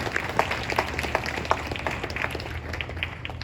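Applause at a fall school orchestra concert, a light scattering of claps from a modest audience filling a few seconds with no talk over it.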